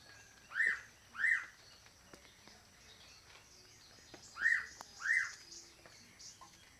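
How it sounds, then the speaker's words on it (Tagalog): Four short, faint chirps from a bird, in two quick pairs separated by a pause, over a quiet background hiss. "Yan po pala ang ibon na maririnig nyo sa aking video kamakailan lang."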